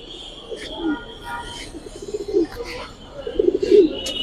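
A pair of silver-necked pigeons coos in several low, throaty bursts that grow louder toward the end, with faint chirps and some background noise.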